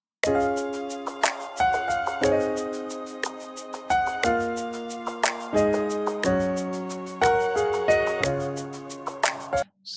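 A gentle worship keyboard loop plays sustained chords with a plucked melody stepping over them, steady and clear with no voices.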